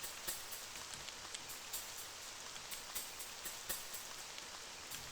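Soft, steady rainfall in the video game Forest of Drizzling Rain, with drops pattering on surfaces in an irregular ticking over a faint continuous hiss, quiet and even.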